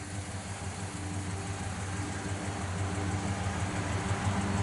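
Steady low idle from a 1967 Chevrolet El Camino running out its dual exhausts, a close, continuous rumble that stays even throughout with no voices.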